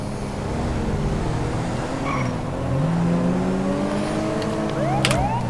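Car engine droning steadily as the car drives at moderate speed in GTA with the LSPDFR police mod, the pitch rising and falling with gear changes and brief tyre squeals near the end.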